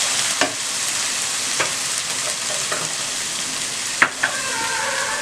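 A spinach and egg curry mixture fries lightly in a pan with a continuous, even sizzle, while a spoon clinks and scrapes against the pan every second or so.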